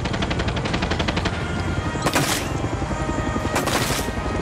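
Sustained automatic gunfire in the Far Cry 6 video game, a dense rapid rattle with two sharper loud bursts cutting through, continuous and close with no talking.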